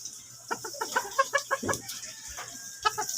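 A chicken clucks close by in a run of short, rapid throaty notes followed by a couple of scattered clucks, with no talking.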